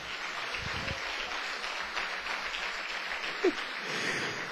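Congregation clapping for Jesus in a church service, a steady wash of many hands applauding throughout with brief louder bursts, no talking.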